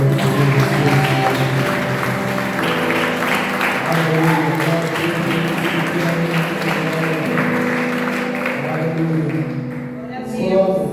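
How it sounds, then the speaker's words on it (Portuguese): A church congregation claps loudly during a worship service, steady applause blended with sustained organ or keyboard chords and voices, easing off near the end. "Dê uma salva de palmas bem forte."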